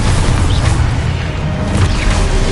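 An explosive spell goes off in a Hogwarts video game, a loud, sustained low rumble with swishing whooshes layered through it.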